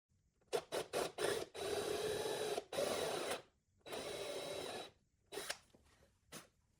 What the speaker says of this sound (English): Drill a 5/16 inch diameter by 1/2 inch deep hole